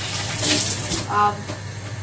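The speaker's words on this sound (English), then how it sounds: "Wash my hands." Tap water runs into a kitchen sink for a moment while hands are washed, a soft close splashing wash with some faint background noise.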